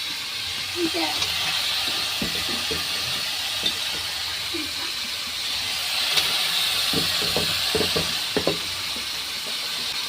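Fish slipped one by one into a hot pan of oil in a village kitchen, giving a steady loud hiss with small scattered taps and clatters near the pan, a voice faintly in the background.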